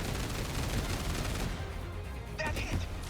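A burst of heavy cannon fire in the video game 13 Sentinels: Aegis Rim booms and rumbles, followed by a few sharp impact cracks near the end.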